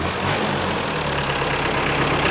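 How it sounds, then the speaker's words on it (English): An old Mitsubishi Delica project car, fully warmed up after about twenty minutes, idles steadily and evenly with a low, continuous engine drone and no talk. "It's literally been idling for like 20 minutes and it's finally gotten warm enough to get the thermostat open and everything getting hot."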